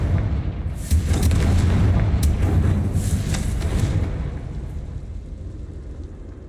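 Confringo fire spell detonating in Hogwarts Legacy, a deep rumbling explosion with crackling bursts on top that swells early, then slowly fades into a low, lingering roar.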